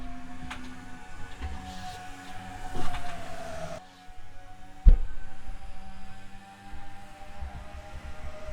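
Stock cars race on a Texas track in a 2007 Grand National Series video game, heard as a steady engine drone with rising and falling whines and one sharp thump midway.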